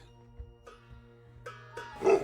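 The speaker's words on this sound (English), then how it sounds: "The Bhutanese mastiffs arrogantly displaying her muscular strength." A large Bhutanese mastiff guarding herders' shelters in Merak and Sakteng, Bhutan, gives several deep barks, growing louder toward the end, over a steady tonal hum in the background.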